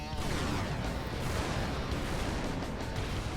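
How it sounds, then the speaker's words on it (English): Continuous battlefield explosions and artillery fire in the video game Total Tank Simulator, featuring Tiger tanks: a dense, loud, unbroken roar of blasts with no gaps, and some speech-like sound mixed in. "Just explosion after explosion."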